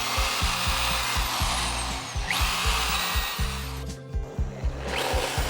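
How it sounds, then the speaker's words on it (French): Power drill fitted with a small countersink bit boring shallow recesses over pilot holes in a wooden joist, a steady whirring grind with repeated rhythmic bursts and brief pauses between holes, close and loud. "A l'aide d'une petite fraise montée sur la perceuse, nous ménageons une petite cuvette sur tous les avant-trous"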